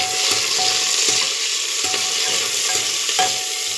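Garlic, green chillies and curry leaves sizzle in hot oil as a tempering for spinach dal, a dense, even hiss with light crackles and faint stirring throughout.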